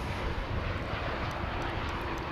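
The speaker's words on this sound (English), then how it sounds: "here comes the Dreamliner from" A Boeing 787 Dreamliner arriving from Maui gives off a faint, steady engine rumble at a distance, a broad continuous wash of aircraft noise with no talking.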